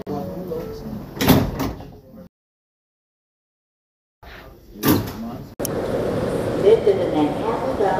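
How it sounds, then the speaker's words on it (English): R211 subway car doors on E and F express trains sliding shut during door testing, thumping and rumbling after announcements, with a mechanical whoosh and hum continuing at the end. "Stand clear of the closing doors, please."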